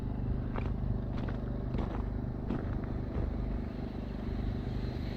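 Traxxas X-Maxx RC truck running at full speed across ice after an ice storm, its electric motor giving a steady close whine and rumble throughout, with occasional clatter and scraping from the tires on the frozen surface.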